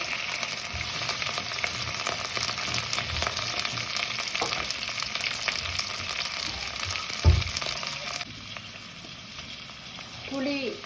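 Spices temper in hot oil before fish goes in for a fish curry, a steady, dense sizzle and hiss throughout, with one brief knock partway and a faint voice near the end.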